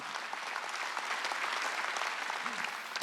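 Soft, steady clapping from a church congregation during a Sunday worship service, moderately distant and even throughout.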